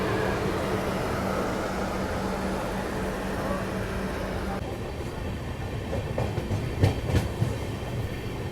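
The 15057 Gorakhpur–Anand Vihar Weekly Express rolls along the rails after leaving Gorakhpur Junction, a steady loud rumble with rhythmic clickety-clack and a few sharper wheel knocks near the end.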